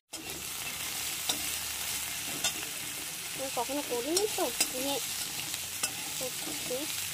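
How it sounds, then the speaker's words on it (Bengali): Potatoes frying and being stirred in a pan at home, with steady close sizzling throughout and scraping stirs, while someone speaks briefly over it. "আলুটা ভাজা হয়ে গেছে"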